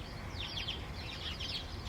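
Chickens cluck in a garden beside a sheep pen, a few faint chirpy calls over steady low outdoor rumble.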